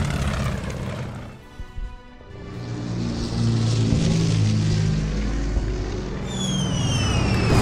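World War II aircraft in the strategy game Order of Battle, including Spitfires, roaring propeller engines that build into a loud sustained drone with a brief dip early on and a rising whine near the end.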